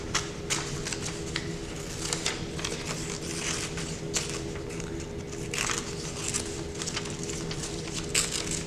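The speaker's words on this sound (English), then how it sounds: "So you just want to cut around your leaf imprint." Scissors snip around a crayon leaf imprint on paper, giving a run of dry crisp cuts and paper rustles at close range over a faint steady hum, with no talking.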